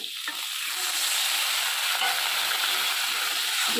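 A little water poured into a hot cooking pan of fish curry sets off a loud, steady sizzling hiss that swells and holds throughout, with no voices.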